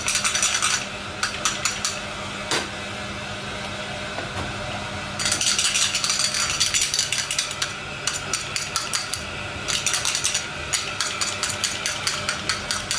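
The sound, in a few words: cannelé moulds placed on a baking tray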